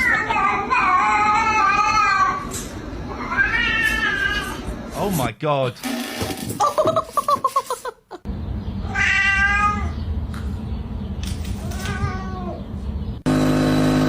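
Cats meow repeatedly in a played video, loud rising and falling cries one after another, with people talking and reacting over them throughout.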